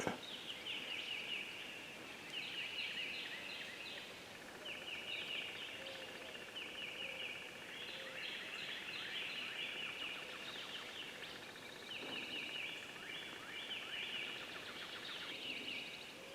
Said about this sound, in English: Oh, the other birds are starting to make noises